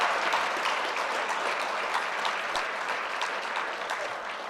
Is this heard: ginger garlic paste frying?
no